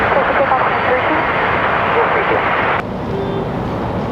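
A jet roars steadily in the open air during takeoff at Raleigh-Durham International Airport, a loud broadband rumble that cuts off and drops in level partway through, with faint radio-style talk.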